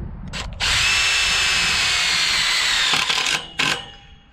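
A power drill bores into material during greenhouse construction, running in a short burst and then one long, loud, steady whine before it stops, followed by a brief final spin.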